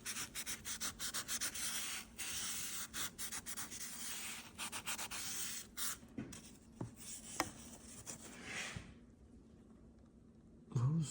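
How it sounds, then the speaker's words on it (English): Fine sandpaper and a Scotch-Brite pad scrubbing rust off the top plate of a 10-speed Eaton transmission, giving steady close rasping strokes in quick rhythm that slow and stop near the end. "some light sandpaper, not too gritty, not too coarse, just fine. Also a little bit of Scotch-Brite."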